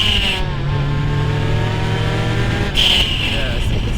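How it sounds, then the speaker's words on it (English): A Mazda RX-7 FC with a Pandem kit pulls hard in second gear, its rotary engine droning loud and steady from inside the cabin as it rises in pitch, with a brief pause before the note picks up again. "Second gear pull for you lovelies."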